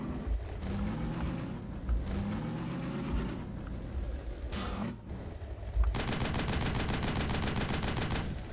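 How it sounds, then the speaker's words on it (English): An M2 Ma Deuce heavy machine gun firing in the Half-Life game Hunt Down the Freeman, a loud sustained stream of rapid shots with brief pauses, dense and continuous toward the end. "I got to shoot barnacles with a Ma Deuce"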